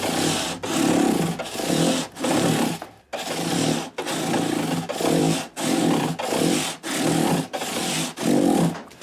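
Guitar fret crowns are sanded with a 400 grit scrub block on a figured koa guitar, giving rhythmic back-and-forth scratchy strokes, about a dozen evenly paced passes, close and fairly loud with no speech.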